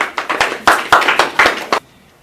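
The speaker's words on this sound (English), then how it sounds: "Let's give the guests an applause for being here." A few people clap for guests at a business presentation, a close, sparse burst of distinct claps that stops abruptly, leaving silence.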